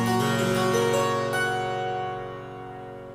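A 1998 Michael Cole harpsichord with both string sets coupled by brass stops, giving a fuller, richer tone; a short run of plucked notes ends on a sustained chord that fades gradually.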